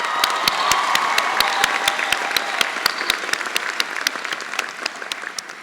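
A high school graduation crowd applauds and cheers, dense clapping with some crisp close claps standing out and shouts rising over it, gradually thinning toward the end.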